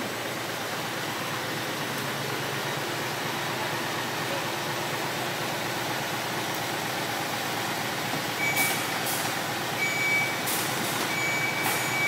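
A Hino 700 truck with an E13C engine runs at a steady idle, a constant broadband engine hum and hiss, joined near the end by a few brief high electronic beeps.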